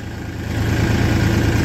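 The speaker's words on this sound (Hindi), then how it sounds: "देखो बिट्टू भाई का भी मैसी ओरिजिनल है, बिल्कुल बहुत ही प्यारा ट्रैक्टर है" An original Massey Ferguson tractor engine runs steadily nearby, a loud continuous low diesel rumble with a regular pulsing beat and no pauses.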